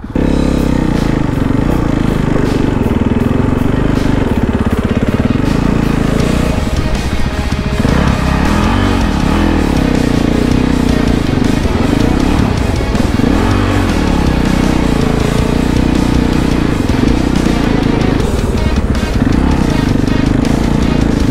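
Loud, constant engine drone of dirt bike-based Timbersled snowmobiles riding through snow in Colorado, a close, steady motor roar with slight rises and dips in pitch throughout.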